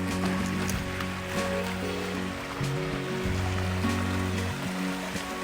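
Shallow, low river water runs over rocks beneath a bridge in a steady, close wash, with a low droning hum underneath.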